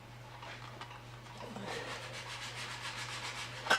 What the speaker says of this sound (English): I'm just going to keep working at it with the tin snips now till we get